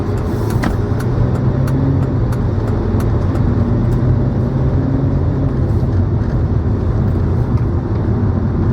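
Steady interior drone of a car driving along Spring Street in Long Beach, a loud, continuous low road and engine rumble with no talking, holding constant throughout.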